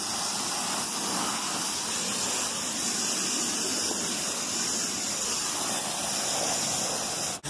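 An air compressor paint spray gun sprays in a continuous, loud, even hiss that holds steady for several seconds before cutting off abruptly at the end.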